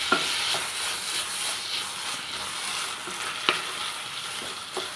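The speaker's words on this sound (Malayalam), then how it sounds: "മസാലയൊക്കെ നല്ലോണം തിളച്ചിട്ടുണ്ട്" Prawn biryani masala bubbling in a pot, a steady close sizzle and simmer with a few sharp clicks and pops scattered through it.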